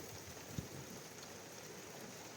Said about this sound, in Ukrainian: А у нас дощ.